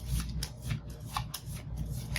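Lost Ruins of Arnak board game cards being shuffled by hand, a quiet close series of riffling flutters and soft slaps repeating in an uneven rhythm.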